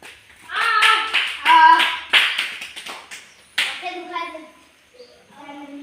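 Hand claps from a village crowd at a comic magician show, several quick bursts of clapping layered under a child's and adults' chatter, close and lively.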